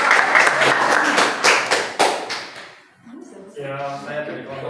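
A group of people claps hands together in a lively burst that tapers off after about three seconds, and then a voice starts talking.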